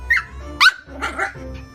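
A Yorkshire terrier, a small terrier breed once used to hunt rats in mines, gives a few sharp, high yapping barks close by, spaced out over under two seconds with quieter whiny tones between them.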